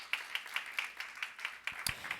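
A church congregation claps in rhythm during a sermon, about ten evenly spaced, moderately loud claps with no talking over them.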